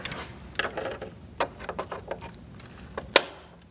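Plastic radiator fan tabs on a 2008-2014 Mercedes-Benz C300 being pried with a flathead screwdriver: faint scraping and ratcheting clicks scatter throughout, ending in one sharper click near the end, quiet and close with no speech.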